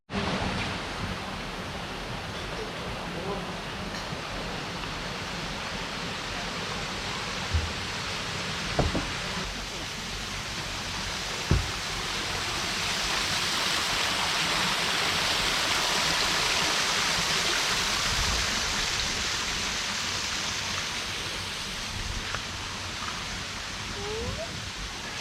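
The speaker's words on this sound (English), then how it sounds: "there's a waterfall over there" A waterfall at a cafe surrounded by greenery in Khao Yai, Thailand, rushes as a steady broad hiss, with a few faint knocks and distant voices in the background.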